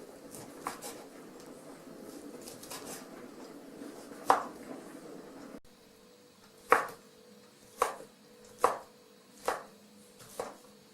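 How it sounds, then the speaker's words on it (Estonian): A knife chops fresh cabbage for a multicooker soup, giving a steady series of crisp, separate cuts on a board, close and clear with no talk. "Vaatame, mis nuga selle paremini lõikab, see lõikab selle paremini."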